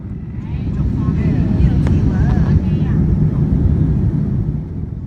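Steady low roar of a United Airlines airliner cabin descending into Shanghai Pudong International Airport, loud and constant throughout, with faint voices in the cabin beneath the engine and airflow noise.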